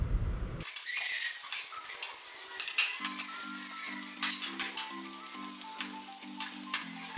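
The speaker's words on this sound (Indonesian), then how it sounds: "Aduk-aduk bawang bombay agar matang dengan merata." Onions sizzle steadily in a hot pan while a spatula scrapes and stirs them in repeated strokes with occasional clinks, close and fairly loud, with a steady low hum joining partway through and no talking.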